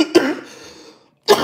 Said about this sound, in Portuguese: a tosse é porque eu estou aqui a falar muito rápido